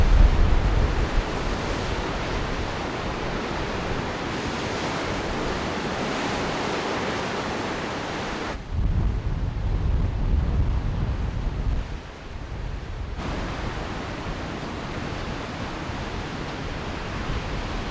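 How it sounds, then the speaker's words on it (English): Strong wind roars across a microphone at the coast, a loud steady broadband rush with surf underneath, easing briefly and then gusting again, with no voices. "The wind is whipping right now."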